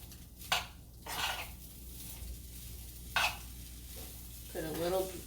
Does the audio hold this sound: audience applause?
no